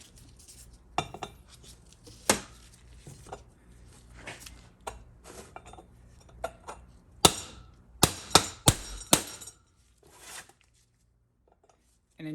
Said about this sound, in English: Now we have to stake the new bushing in place.